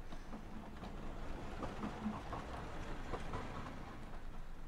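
A train rolls along steadily at low level, with faint rhythmic clickety-clack of wheels on rails over a continuous rumble.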